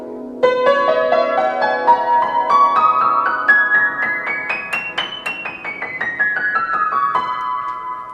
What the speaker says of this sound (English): So that's what a major scale sounds like